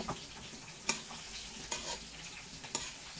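Dinendeng vegetables are stirred in a cooking pan, with three distinct scraping strokes over a steady background sizzle.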